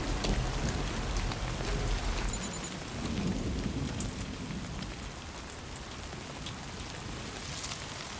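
Steady rain pours throughout a scene in the video game Death Stranding 2, a dense hiss with a low rumble near the start, loud and continuous, with no voices.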